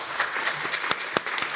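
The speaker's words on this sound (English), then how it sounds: "applause" Audience applause for a discussion panel on deep seabed mining disputes, a brief steady round of clapping with a few sharper individual claps standing out, moderately loud in a conference room.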